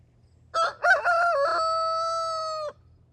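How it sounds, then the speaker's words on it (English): A rooster crows once at dawn, a single loud, clear cock-a-doodle-doo lasting about two seconds with a stuttered start and long held final note, over a quiet low hum. "We got up early as the rooster crows"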